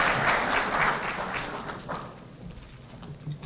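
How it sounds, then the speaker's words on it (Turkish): Audience applause at a Turkish association's civic program, a dense, steady wash of clapping from a crowd that starts loud and gradually thins and fades over a few seconds. "Alkışlarınızı efendim."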